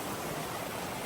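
Mountain stream water flowing steadily, a dense, continuous close rush with no pauses.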